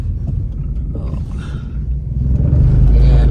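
A Honda Civic hatchback spinning its wheels in snow, a loud close engine rumble that swells and grows heavier toward the end.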